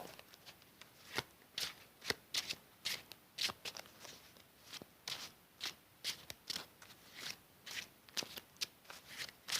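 Yu-Gi-Oh trading cards are shuffled by hand in a rapid series of crisp riffles and slaps, close up, in short irregular bursts.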